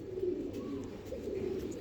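A Chapra pigeon coos softly in a low, steady murmur that continues throughout, fairly quiet and close by, with no talking.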